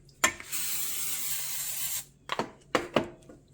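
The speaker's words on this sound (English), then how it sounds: "I'm just going to spray the pan with a little olive oil" A sustained hiss of an aerosol spray lasting about two seconds, bracketed by clicks and clattering handling noises nearby.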